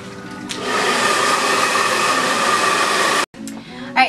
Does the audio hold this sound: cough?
no